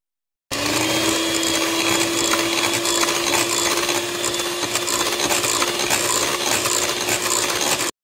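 Electric hand mixer whipping mascarpone and cream into a whipped ice-cream base, a steady loud motor whine that runs without a break for about seven seconds, close by and with no speech.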